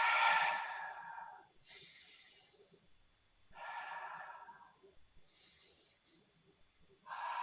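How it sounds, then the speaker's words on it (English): Deep, audible breaths in a tantra workshop exercise, several slow inhales and exhales in a row, close and fairly soft, with no talking. "Lean in. Deep breath."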